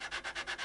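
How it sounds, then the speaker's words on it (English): Guitar frets on an Epiphone SG 400 Pro being sanded with 400 grit sandpaper, six quick even back-and-forth rubbing strokes, close and fairly quiet, with no talking. "sanding the frets with the 400 grit"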